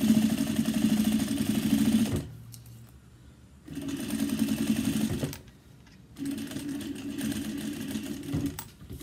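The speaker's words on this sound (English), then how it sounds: "you're going to be top stitching through the exterior and the pocket" Close sewing machine top stitching through a daypack's exterior panel and pocket lining, running in three steady sustained bursts with two brief quiet pauses between them, alone without talk.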